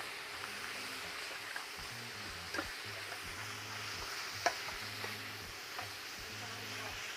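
Ground beef sizzles softly in a pan while being broken up, with a low frying hiss and scattered scraping, stirring taps and one sharper clack, all fairly quiet and without talk.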